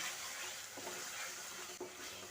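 Spice masala with half a spoon of Kashmiri chilli powder sautéing in a pan for cauliflower-potato dalna, giving a steady soft sizzle with faint stirring scrapes, low and continuous with no voices.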